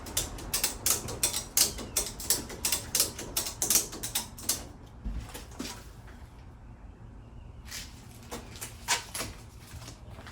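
A ratchet strap is cranked tight on the drive shaft of a Locost 7 kit car, with a rapid run of sharp, close ratcheting clicks, a pause, then a few more clicks.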